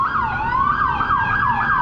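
A police car siren wails in a fast repeating rising and falling pattern, loud and close, alone with faint road noise beneath.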